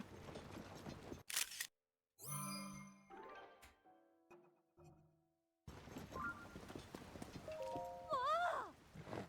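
A horse in the video game The Legend of Zelda: Tears of the Kingdom, with brief clopping hooves and a rising, wavering whinny near the end, set among busy game effects, chimes and a voice talking.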